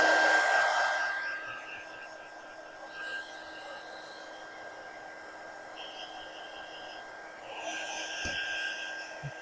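A hair dryer blows steadily on a painted wooden cutting board, a continuous close whirring hum that shifts slightly in loudness as it moves, with no talking.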